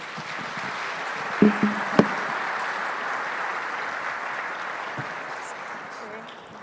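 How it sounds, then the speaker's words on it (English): Audience applause for a panel at the U.S.-Africa Business Summit 2025: a dense, steady wash of clapping fills the hall throughout, with a few louder claps near the start, then tapers slightly at the end. "Please continue to give them a warm round of applause for the excellent moderation."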